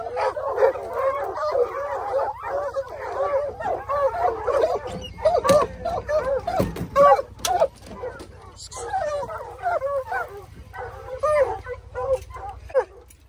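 A pack of bear hounds bays and yips during a bear chase in the woods, with many overlapping barks and howls at moderate distance, rising and falling in bursts with a few short gaps.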